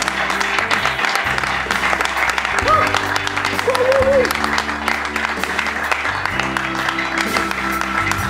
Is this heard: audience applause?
yes